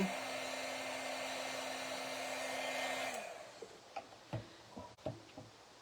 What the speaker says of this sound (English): The magic happens as we apply the heat, and you can see it turn glossy.